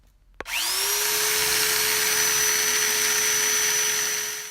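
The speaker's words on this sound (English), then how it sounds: "we're just gonna be using a regular corded electric drill" A regular corded electric drill spins up sharply and runs at a steady, loud whine with a rising then constant pitch, driving a bit meant for cutting metal on a Miata coilover job, with no talk.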